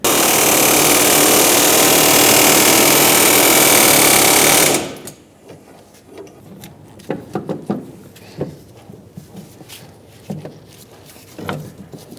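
Loud continuous air hammer rattles for about five seconds while working on a 2000-2007 Ford Taurus 3.0L V6 rear strut assembly, then stops, leaving scattered clanks and knocks of tools on metal.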